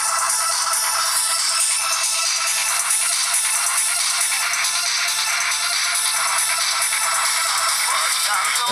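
A rock song plays through the small built-in speaker of a Fly IQ441 phone, thin and tinny with no bass, a continuous loud stream of music and no talking.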